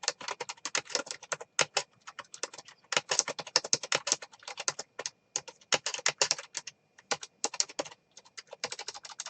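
Rapid, uneven bursts of close keystrokes on a computer keyboard, typed in quick runs with short pauses between them and no talking.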